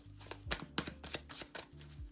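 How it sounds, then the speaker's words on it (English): A deck of cards is shuffled close up in a run of quick crisp riffles and snaps, moderately quiet, with no talking. "As I'm shuffling your cards, I'm just seeing if anything else is coming up."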